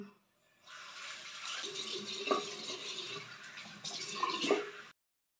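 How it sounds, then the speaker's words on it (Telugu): Water splashes and drips at a sink as a face is rinsed with face wash, a continuous close wet rushing and patting that stops abruptly, with no talking. "ఇప్పుడు నేను దీన్ని వాష్ చేసి చూస్తాను"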